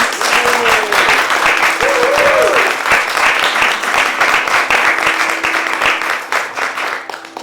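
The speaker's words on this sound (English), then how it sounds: "give another big round of applause for Rohan, Shreyas, and Tarun" Sustained applause from an audience at a 2021 graduation concert follows a performance by three musicians. Many hands clap steadily and close at full volume, with a few brief voices and whistles rising above, before tapering slightly at the end.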